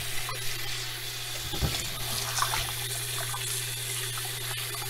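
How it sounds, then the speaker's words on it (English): Tap water runs in a steady, continuous stream as a red snapper is rinsed at a sink, a close, even splashing wash with a low hum beneath it. "So I'm going to rinse off the fish now"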